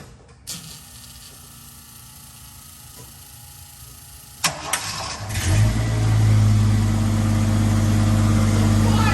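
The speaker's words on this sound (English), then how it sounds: "make sure it's knocked out of gear and fire it up" A Jeep Scrambler engine cranks after a few quiet clicks, catches and roars to a loud, rough idle that keeps running close by.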